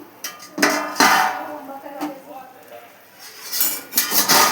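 A spoon scraping and clinking against a pot as shakkarpara is stirred into sugar syrup, with irregular metallic knocks and rattles, close and fairly loud, while a person talks over it.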